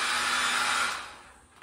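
A small hand-held blow dryer drying paint on skateboard art whirs with a steady airy roar, then is switched off and spins down to quiet near the end.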